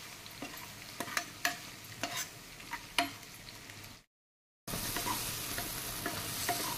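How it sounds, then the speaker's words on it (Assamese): Spices (cumin, coriander and red chili powder) being stirred into a fish curry in a pan, mustard-based, with a spoon scraping in several distinct strokes over a soft sizzle, briefly cut off, then a steadier frying hiss. "এইখিনি মই এতিয়া ভালকৈ মিলাই লওঁ"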